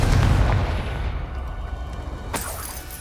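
The Confringo blast spell explodes in the Hogwarts Legacy video game: a loud, close boom that rolls into a fading rumble, followed by a second sharp crack near the end.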